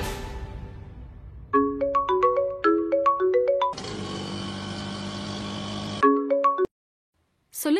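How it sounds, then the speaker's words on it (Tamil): A phone plays a melodic ringing tune during an outgoing call, with repeating tonal phrases, a sustained chord, a short silent gap, then the tune resuming, and no voices. "அவங்களுக்கு ஃபோன் பண்ணி பாப்போம்."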